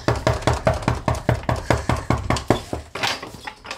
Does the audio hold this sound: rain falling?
no